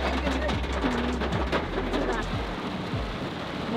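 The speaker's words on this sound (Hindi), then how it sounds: "बहुत तेज बारिश" Heavy monsoon rain pours down in a steady dense roar, with low thunder rumbling underneath; no voices are heard.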